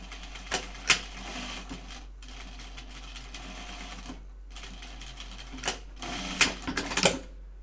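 A sewing machine stitches a Tibetan chupa garment in short rapid bursts separated by pauses, with a steady mechanical whir and a few sharp clicks, close and moderately loud with no talking.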